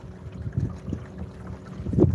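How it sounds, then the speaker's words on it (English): A low rumbling motor drone of a boat passing at a distance, mixed with wind buffeting, swelling louder toward the end. "And there's a boat speeding on the other side."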